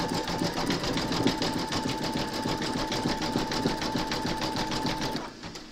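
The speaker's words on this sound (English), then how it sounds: "Pop your hoop into your machine and stitch round number 16 to secure them." An embroidery machine stitches an applique round on a large in-the-hoop scarecrow design, a steady rapid needle chatter with a constant whine, close and loud, running evenly before cutting off abruptly near the end.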